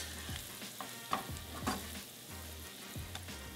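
Flour stirred into browned sausage in a frying pan, a steady low sizzle with soft scraping strokes of the spoon and a couple of sharper clinks, close and fairly quiet with no talking.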